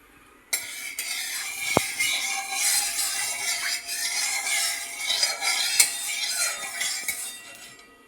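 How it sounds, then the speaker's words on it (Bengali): Pieces of catla fish frying in oil in a pan, a loud continuous sizzle that begins abruptly, with occasional clinks of a utensil against the pan. "কাতলা মাছটা ভেজে নেব।"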